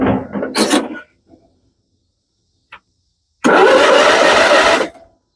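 A Kohler 12.5 HP engine on a John Deere STX38 lawn tractor, boosted by a jump pack, cranks in a loud grinding burst of over a second after earlier short rasping bursts and a click, without starting.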